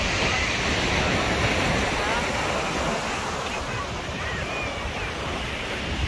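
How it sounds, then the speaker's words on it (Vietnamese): Ocean waves wash steadily onto Hoanh Son beach in Quang Binh, a constant broad surf roar with heavy wind buffeting the microphone. "Đây cảnh bãi biển đây"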